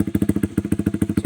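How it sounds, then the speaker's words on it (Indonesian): A Honda CB200R motorcycle engine runs just after starting with a fast, regular chugging pulse close to the microphone, briefly stumbling partway through before settling back into its loud, even beat. "Start engine. Itu suaranya simple."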